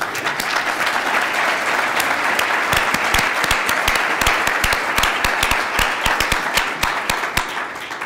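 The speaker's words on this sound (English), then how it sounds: "give them a round of applause" Steady, loud applause from a conference audience, dense clapping from many hands that holds throughout and thins slightly near the end.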